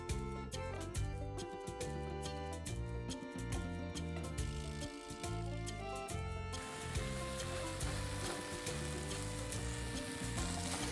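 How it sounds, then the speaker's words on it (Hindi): Idli pieces shallow frying in hot oil in a spiced masala, a close, steady crackling sizzle that swells into a denser hiss partway through, with no voices. "हमारा तेल अब बिल्कुल गर्म हो चुका है और अब हम इसमें इडली डालेंगे।"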